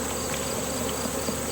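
Honey bees trapped in a jar during a mite wash buzz in a steady, close, continuous drone with no talking over it.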